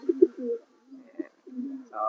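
Dark check racing pigeon hen kept for south race breeding, giving soft low coos in short repeated bursts with pauses, close and fairly quiet, no talk over it.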